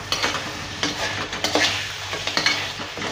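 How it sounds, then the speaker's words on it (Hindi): Fenugreek is stirred and roasted in a pan, a close sizzling hiss with frequent spoon scrapes and clinks in an irregular rhythm, no voices. "और थोड़ी सी मेथी इसमें शामिल करेंगे। वो अच्छे तरीके से आपने भूनना है।"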